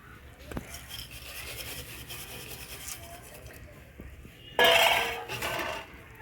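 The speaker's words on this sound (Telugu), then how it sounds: "బాగా కలుపుకుందాము గట్టి ఉంటలే అదే గట్టిగా లేనట్లా బాగా ఇట్లా కలుపుకుందామండి" Oats are stirred into boiling water in a metal pot: soft scraping and rubbing strokes of a spoon against the pot, near and fairly quiet, with a louder burst of clattering scrapes toward the end.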